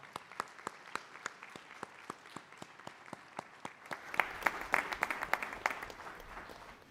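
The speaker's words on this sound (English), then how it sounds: "Let's give them another round of applause." An audience at a school board dedication ceremony claps in a slow, evenly spaced rhythm at first, then swells into louder, denser applause with scattered sharper claps before easing off.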